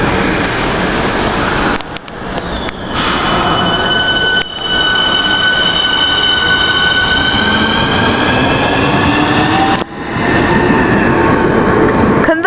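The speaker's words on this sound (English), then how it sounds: "465 converted, departing." Class 465 electric train, one with new Hitachi traction motors, pulling out of London Victoria, loud and close, with rising and falling motor whine, wheel squeal and rumbling carriages throughout.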